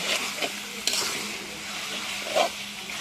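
Meat is stir-fried in a pan: a steady sizzle with occasional scraping strokes of a spatula, close and moderately loud, with no speech.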